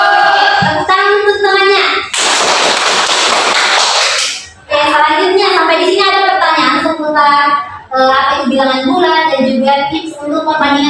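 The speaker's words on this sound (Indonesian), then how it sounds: "Tepuk tangan untuk temannya" Brief burst of classroom applause for a classmate in a junior high maths lesson, a couple of seconds of dense clapping that stands out loudly between stretches of a teacher and children talking.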